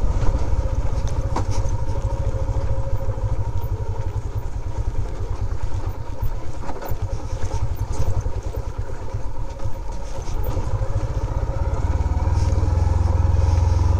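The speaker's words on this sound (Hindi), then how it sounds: "यहाँ पे लूज ग्रेवल है ना, तो उसकी वजह से आपकी बाइक थोड़ी सी स्किड करती है" A motorcycle rolls slowly over loose gravel on the road to Ranikot Fort at night, its engine throbbing loud and close in a steady, even rhythm for the whole stretch, with no talking.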